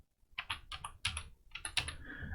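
Quick, close clicks of a computer keyboard as a root password is entered during a command-line Linux install, irregular bursts of keystrokes over about two seconds with no talk.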